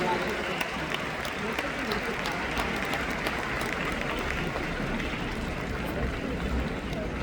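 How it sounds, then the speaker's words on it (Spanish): A large convention congregation in Mexico breaks into loud, sustained applause, dense crowd clapping holding steady throughout with voices mixed in. "un aplauso más fuerte al Señor por la vida de nuestra amada pastora."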